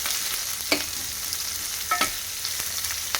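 Green chilli pieces frying in oil for a green gram tempering, a steady close sizzle punctuated by a few sharp spoon taps.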